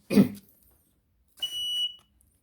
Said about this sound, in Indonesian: maka alarm akan berbunyi seperti ini